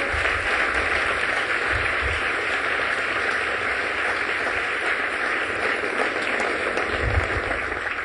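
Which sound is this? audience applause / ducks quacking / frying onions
audience applause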